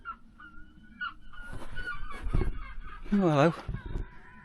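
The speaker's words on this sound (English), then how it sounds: "A couple of very loud seagulls over my head." Loud gull calls overhead at a tiny home while an awning is taken down, a few harsh honking cries and one rising wavering squawk near the end, over a brief spoken greeting and background rustling.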